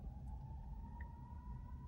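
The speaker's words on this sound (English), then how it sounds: "Probably the sirens." A siren wails in the distance, a steady tone held over a constant low rumble of ambient street noise, faint and continuous throughout.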